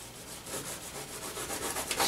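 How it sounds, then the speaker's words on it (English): A 1-inch brush rubbing Viridian Green oil paint into canvas, a soft continuous scrubbing with a regular back-and-forth rhythm, close and quiet with no talk. "Rub it into the canvas."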